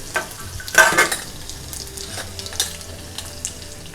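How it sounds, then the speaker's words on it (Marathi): Garlic, asafoetida and curry leaves fry in hot oil with a steady close sizzle, punctuated by a few scraping stirs and light metallic clinks of a spoon against the pan. "हे हिंग आणि लसूण आणि कढीपत्ता चांगला तेलामध्ये चांगलं परतून घ्यायचं"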